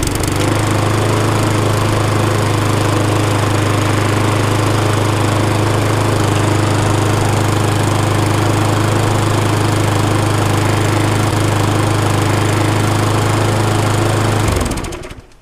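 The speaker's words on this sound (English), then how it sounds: "that lawnmower is now, you might be able to hear it outside, rattling away." A small petrol lawn mower engine runs on the wrong fuel after a repair, rattling loudly and steadily at a constant pitch close by, then cutting out at the end.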